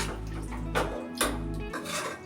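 A few metallic clanks of a pressure cooker lid being set and pressed into place over mutton curry, three distinct knocks over a low steady hum.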